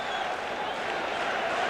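Capacity crowd at a 1984 Game 7 Lakers vs Celtics basketball game in the arena, a steady dense roar of murmuring voices and scattered clapping filling the space without a break.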